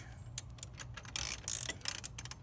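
A ratchet tightens the rear axle nut on a Honda C125 Super Cub during a rear wheel install: a run of quick, close clicking pawl strokes in uneven bursts, louder toward the middle, with no talking.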